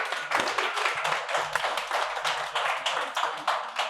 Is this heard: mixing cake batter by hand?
no